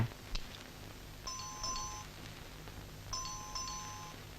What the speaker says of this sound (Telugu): కాలింగ్ బెల్ వినపడ్డా లేదా?